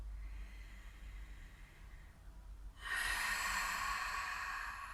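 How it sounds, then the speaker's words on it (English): A long, deep breath drawn in through the nose, then pushed forcefully out through the mouth during a beginner yin yoga session; a quiet, soft inhale gives way to a loud, broad rushing exhale that lasts a couple of seconds, with no talking. "breathe in through your nose, force the air out through your mouth"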